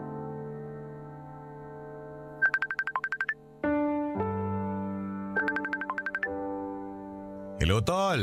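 A telephone call is placed and rings: a synthesized electronic ringtone of sustained tones and quick stuttering notes repeats clearly, ending in a rising warble.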